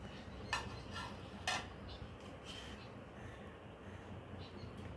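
Rice is served onto a plate at home for lunch, with two crisp dish clinks early on followed by faint scraping and light clatter against a quiet background.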